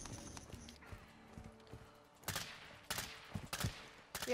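Scattered gunfire in a Call of Duty: Modern Warfare II multiplayer match, a few sharp, fairly loud cracks arriving in a loose cluster after a quiet lead-in, separated by brief gaps.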